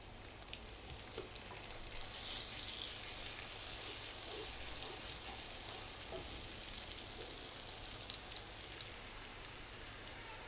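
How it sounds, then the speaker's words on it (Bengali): Onions and whole spices frying in a pan with ginger garlic paste for a liver bhuna, giving a steady, dense sizzle and crackle throughout, close and even with no talking. "পেঁয়াজ আর গরম মশলাগুলো ভেজে নিলাম।"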